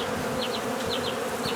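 A swarm of honey bees buzzes loudly and continuously up close, a dense steady hum with a few sharper wingbeat whines darting past.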